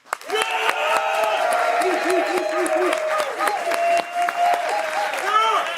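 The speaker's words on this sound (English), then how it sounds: "I want you guys to applaud for yourself" A studio audience at a live finance event in Miami claps and cheers loudly and steadily, with whoops and voices mixed into the sustained applause.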